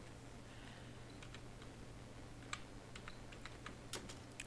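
Someone types on a computer keyboard, producing faint, irregular key clicks in short bursts against a steady low hum.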